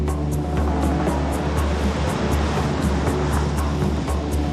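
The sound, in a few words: crashing ocean waves at Bali beach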